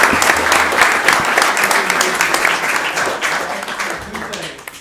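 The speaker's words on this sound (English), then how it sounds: "So everybody, if we could, a round of applause for Paul Robinson tonight." Loud audience applause at a city council meeting honoring a retiree, a continuous dense clatter of many hands lasting several seconds, with a few voices mixed faintly underneath.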